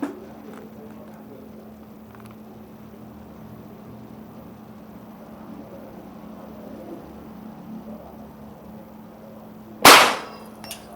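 A Sanaji Neo Class OD 25 air rifle fires one sharp, loud crack near the end of a long quiet stretch, with only faint background hum before it.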